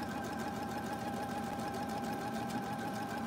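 A sewing machine runs steadily, stitching quilt triangles for flying geese blocks along a drawn sew line, with a continuous mechanical whir and hum that stays alone and even throughout.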